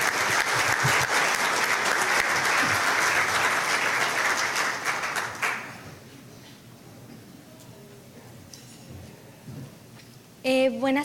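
Strong, full audience applause at a monthly luncheon welcoming a speaker, sustained for about five seconds before fading into room quiet, with her voice starting up at the end.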